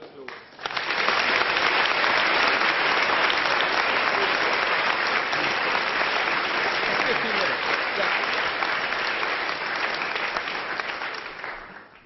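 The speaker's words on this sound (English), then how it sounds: "So please give him a warm round of applause" An audience at a Cambridge Union debate gives sustained, even applause for a Shadow Cabinet speaker, dense clapping that swells quickly, holds strong for about ten seconds, then eases off.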